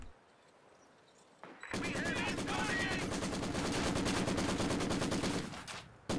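A Maxim machine gun in the Company of Heroes 2 strategy game opens up in a loud, sustained burst of rapid, evenly spaced shots that runs for several seconds, then stops.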